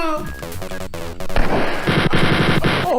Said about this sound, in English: let's try this again, this time with the chain gun